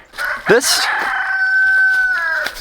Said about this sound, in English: listen to my rooster while I talk probably